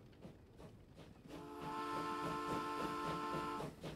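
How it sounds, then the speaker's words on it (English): A train pulls out of a city in the video game Transport Fever: a steady rhythmic rolling rumble with a sustained horn-like tone held for about two seconds, fairly quiet, with no talking. "this train is finally leaving the city"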